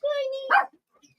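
A dog gives a single sharp bark, loud and close, right after a short high whine, then quiet.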